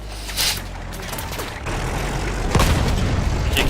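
A tank cannon fires in the World War I game Battlefield 1, with deep booming shots and a sharp blast near the middle over a constant rumbling engine and battle noise.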